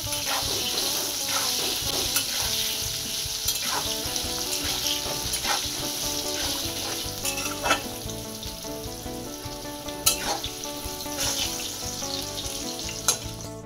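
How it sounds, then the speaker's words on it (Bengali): Potatoes for a meat curry fry in oil in a wok, making a continuous crackling sizzle with occasional sharper pops and clinks of a utensil, with no voices. "মাংসর আলু কিন্তু আমি কড়াইতে বয়াইয়া তারপরে আইয়া পড়ছি"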